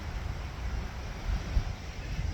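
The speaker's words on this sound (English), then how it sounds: "I love it. It's getting windy." Low gusty wind rumbling against the microphone outdoors as a rain storm rolls in, a brief steady whoosh with soft buffeting, no voices.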